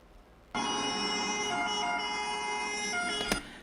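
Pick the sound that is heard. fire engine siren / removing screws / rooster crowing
fire engine siren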